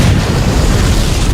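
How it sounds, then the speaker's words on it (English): A loud, sustained explosion from the video game Halo, a dense rumbling roar filling the whole moment with no voices over it. "Well, with explosions!"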